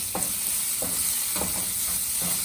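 Green chillies and vegetables sauté for egg fried rice, a steady hiss of frying in the pan broken by a few sharp scrapes of a spatula stirring at regular intervals, close and alone.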